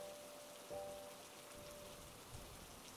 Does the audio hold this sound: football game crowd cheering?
no